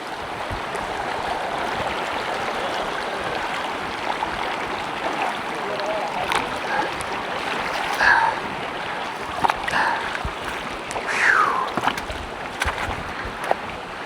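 Someone wades across a creek in Crocs water shoes, with steady flowing water and soft splashes that grow more pronounced toward the end, no talking.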